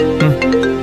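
An incoming phone call rings with a short tonal ringtone, steady and fairly loud throughout, with no talk over it.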